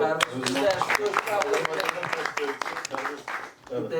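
Audience applause at a Turan-8 Grand Prix press conference, a dense burst of clapping close by that swells and fades over a few seconds, with voices mixed in.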